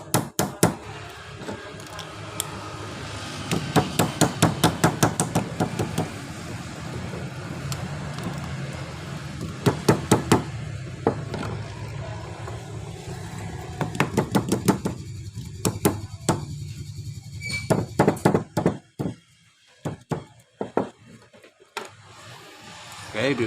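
A washing machine motor is tapped before its winding is tied, giving bursts of sharp, repeated knocks in quick rhythmic runs with pauses between them, over steady background noise.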